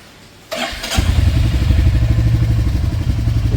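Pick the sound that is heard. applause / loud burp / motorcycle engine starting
motorcycle engine starting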